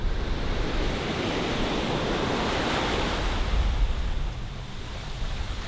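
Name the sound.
ocean waves on a beach in Vietnam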